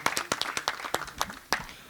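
Applause from a small audience at a panel discussion on memes and aggression, sparse individual hand claps in an uneven rhythm, close and moderately quiet, without speech.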